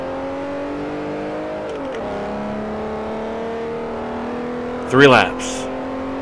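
Ferrari 599 GTO in Forza Motorsport 4 driven with manual transmission, engine droning steadily with a shift dip near two seconds and a brief rising rev burst near five seconds; someone talks over it.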